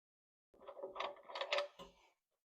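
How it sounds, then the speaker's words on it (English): A 3/8-inch drive ratchet with a 5/8 socket turning a harmonic balancer puller on a 1966 Lincoln Continental 462 MEL engine, giving a short, close burst of quiet clicking ratchet strokes lasting about a second and a half. "we're going to use this to hold the puller body as we use the 3/8 drive and the 5/8 socket to tighten up the harmonic balancer and pull it off"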